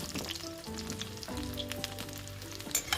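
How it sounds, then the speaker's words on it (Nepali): Chopped garlic frying in hot mustard oil gives a steady, close sizzle with a continuous crackle that runs the whole time, with no voices over it. "त्यसपछि यसरी मैले लसुनलाई फुराएँ"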